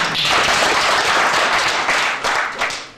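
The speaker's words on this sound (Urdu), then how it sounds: "زور سے تالیاں کیجیے" Audience at a tourism seminar bursting into loud, sustained clapping and applause, a dense crowd of hands that swells and then tapers off.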